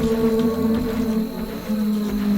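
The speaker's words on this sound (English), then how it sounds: "And I have to hear that coyote noise even more." Coyote-like howl of Siren Head in the horror video game Siren Head: Retribution, a long, sustained, wavering low howl that fills the clip without a break and with no talk over it.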